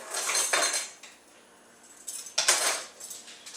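Metal mixer blades being swapped out, two bursts of bright clinking and jangling metal close by with a quiet pause between, no talking.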